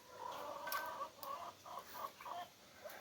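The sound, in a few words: chickens clucking in a chicken coop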